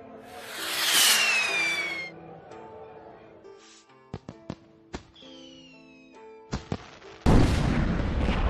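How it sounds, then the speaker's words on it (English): A rocket whistles overhead, sharp cracks pop, then a sudden loud explosion erupts and roars until the end, in an animated bedtime story. "The force of the explosion sent Mushu and Kriki flying through the air."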